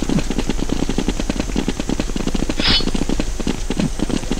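Rapid, evenly spaced gunshots in Counter-Strike 1.6 form a sustained automatic burst of loud, close cracks with a brief hiss partway through.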